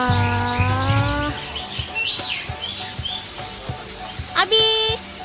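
Birds at Gembiraloka Zoo give scattered chirps and tonal calls amid a background of visitors talking, including children's voices, with a sharp whistled call near the end.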